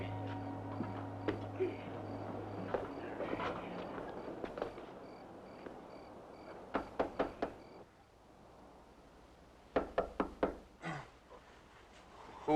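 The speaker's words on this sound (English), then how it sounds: "Pretty late to go knocking on people's doors." Knuckles rap on a house door late at night in a vintage television drama: a quick group of three or four knocks, a pause, then another similar group, fairly close and crisp against a quiet room.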